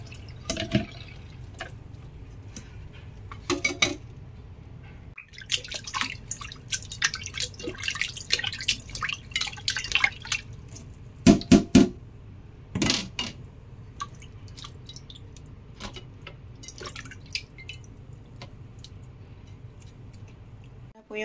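Water draining off freshly rinsed chicken wings, irregular drips and splashes over a low background hum, close and moderately loud.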